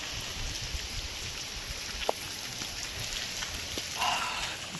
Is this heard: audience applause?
no